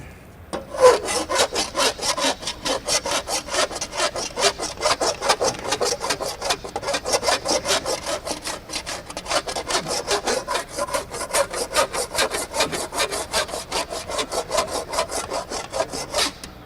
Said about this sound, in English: then I file it with a Vixen file.